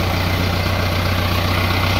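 A tractor engine idles steadily in neutral with the brakes held and a PTO trolley hitched, producing a continuous low, loud diesel throb with an even pulse and no talking.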